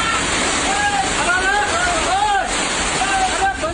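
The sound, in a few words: heavy rain floodwater rushing through streets in Itanagar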